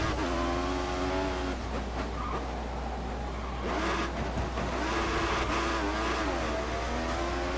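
A Formula 1 car in the F1 2014 racing game, Bahrain circuit, its engine whining steadily as it accelerates and shifts through rising and falling revs, with brief tire and impact noises along the way.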